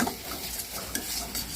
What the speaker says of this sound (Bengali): অল্প করে একটুখানি হলুদ গুঁড়ো দিলাম, দিয়ে এটা নাড়বো ভালো করে।